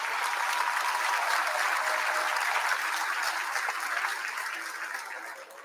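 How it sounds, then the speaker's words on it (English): Audience in Kentucky applauding at the launch of the 2025 Ford Expedition, a broad, steady roar of many hands clapping that holds for several seconds before it begins to thin and fade. "Give yourselves a big round of applause for that."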